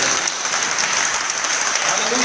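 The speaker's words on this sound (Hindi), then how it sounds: "आइए जोरदार ताली बजाइए यीशु मसीह।" A church congregation claps loudly and steadily as one continuous, dense wash of applause that fills the whole moment, with no voices rising above it.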